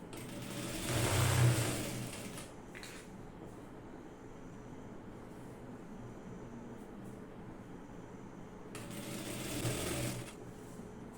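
Sewing machine stitching a saree, heard as two short bursts of whirring, one near the start and another near the end, with a low steady hum between.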